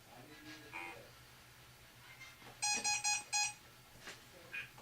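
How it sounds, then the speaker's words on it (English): Electronic beeping from an EMF detector during a ghost hunt, a short burst of four or five rapid high-pitched tones mid-clip, with a few fainter isolated chirps around it over a quiet, hum-filled room. "Was that EMF detector again?"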